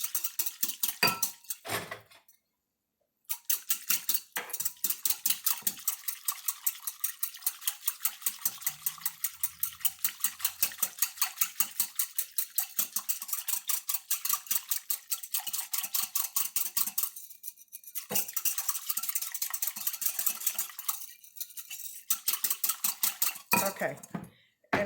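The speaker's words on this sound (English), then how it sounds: "now go ahead and put in your tablespoon of flour and mix that up." Flour being stirred into a mixture in a pot, a utensil scraping and clinking against the pot in a fast steady rhythm for most of the time, close and fairly loud, with brief pauses.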